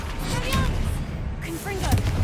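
A Confringo blasting spell explodes in the Hogwarts Legacy video game, a dense, loud rumbling burst with crackling debris mixed under game sounds and a voice.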